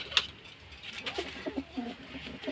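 Pigeons give soft, low cooing notes in a quiet indoor setting, several faint coos in quick succession after a brief sharp click at the start.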